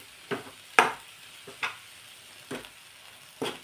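Dill greens sautéing in a hot pan, with spoon stirs every second or so bringing soft sizzling bursts, close and moderately loud, no voices.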